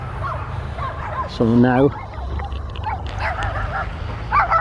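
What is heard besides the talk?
dogs barking at a dog park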